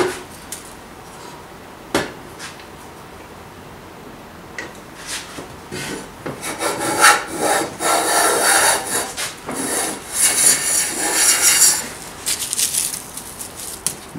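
A Chaplin's improved patent hand plane shaving wood, giving a few short scraping strokes at first and then longer, rasping passes in a dense run, close and loud with brief pauses between strokes.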